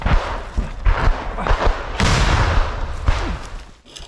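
A Grad multiple rocket launcher fires from short range in combat, a rapid series of loud, close blasts and heavy thuds that overlap into a rumbling roar, with hardly any voices.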